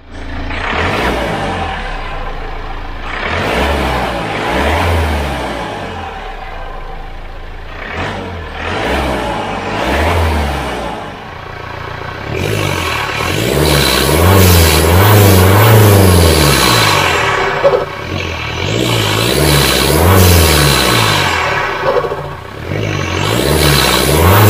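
A Hyundai Accent CRDI diesel car fitted with a high-flow performance air intake revs and accelerates on a test drive, its engine note rising and falling in repeated loud surges with a steady whir beneath.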